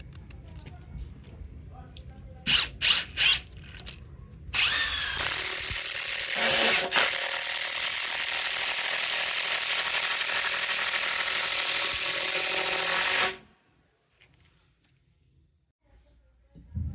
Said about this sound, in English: Here's a standard 4 amp hour battery, fully charged, driving a 3/8 by 12 GRK into a 6x6.